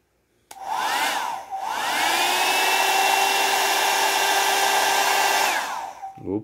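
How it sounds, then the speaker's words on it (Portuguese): A Philco hair brush dryer, just repaired after a loose wire, switches on with a click and runs with a steady whining hum and airflow hiss, briefly dipping in speed before settling, then shuts off near the end. "Então temos aqui essa escova já funcionando."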